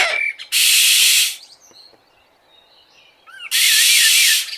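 A person imitating a bird call makes two loud, shrill whistled bursts, each about a second long, with a quieter gap between them.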